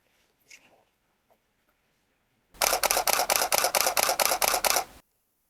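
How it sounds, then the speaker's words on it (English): A rapid burst of Canon 6D DSLR shutter clicks, about ten crisp, evenly spaced actuations over two and a half seconds after a quiet pause, close and loud. "let's listen to that camera's shutter"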